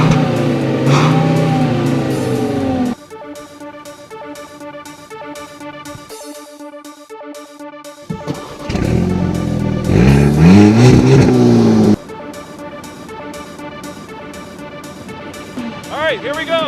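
Two cars, a 2013 Volkswagen Beetle and a 2013 Volkswagen Eos convertible, accelerating from a standstill on snow, engines droning and rising in pitch in separate bursts with shifts between them, at times under talking voices.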